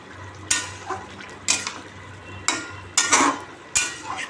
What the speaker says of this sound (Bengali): পনিরগুলো এবার আস্তে আস্তে করে দিয়ে দিলাম দিয়ে এবার একটু নেড়ে ছেড়ে নেব